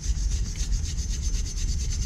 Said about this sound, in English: Now I'll try to get rid of some of this rust.